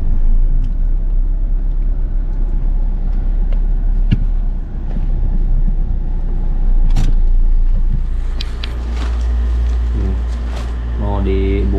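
A loud, continuous low rumble of a car interior while driving fills the whole stretch, with occasional clicks and thumps, and people talk over it toward the end.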